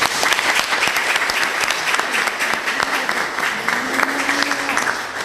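An audience at a press conference for Global Entrepreneurship Week 2019 gives sustained, even applause, a dense wash of many hands clapping with a brief voice faintly underneath.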